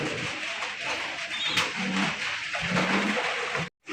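Blue satinette pigeons coo softly and continuously at a loft, low murmuring calls recurring through a steady backdrop of bird chatter, with a brief cut near the end.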